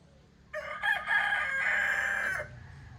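A rooster crows once, loud and drawn out for about two seconds, over a quiet background.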